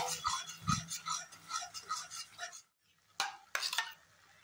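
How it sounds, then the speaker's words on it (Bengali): Cauliflower roast with spices being stirred and sautéed in a pan: rhythmic scraping strokes with a soft sizzle, then a brief pause and a few sharp utensil knocks near the end, no voices. "আবারও ভালো করে কষিয়ে নিতে হবে।"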